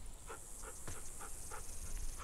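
Rosie, a dog in the video game The Walking Dead: The Final Season, pants in quick, steady breaths, close and fairly soft over a faint background hiss.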